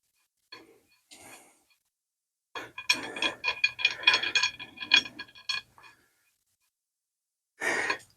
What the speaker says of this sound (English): The first thing we'll start with is take this foot off.